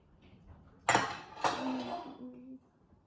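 A fragile homemade cake being set onto a plate, heard as two sharp clinks of crockery close by followed by a short ringing scrape, with quiet pauses around them.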